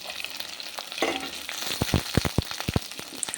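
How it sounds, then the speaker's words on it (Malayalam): Shallots and green chillies hit hot oil with browned garlic, bursting into a crackling sizzle with a few sharp spatters and a quick stir, close and fairly quiet, with no talking. "നമ്മുടെ വെളുത്തുള്ളി മൂത്ത് വന്നിട്ടുണ്ട് അപ്പോൾ അതിലോട്ട് നമുക്ക് നമ്മുടെ കൊച്ചുള്ളിയും പച്ചമുളകും കൂടെ അരിഞ്ഞു വെച്ചിരിക്കുന്ന ഇട്ട് കൊടുക്കാം"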